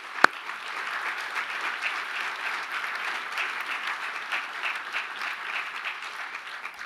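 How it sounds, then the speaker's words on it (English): Sustained audience applause fills a hall at a government press event on child safety reforms, a steady dense wash of clapping with one sharp, close clap near the start and no voices over it. "Please keep clapping because I just have to get some more."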